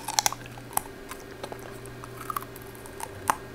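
A corgi chews crunchy food up close, with sharp irregular crunches and bites spaced over a few seconds against a quiet room hum.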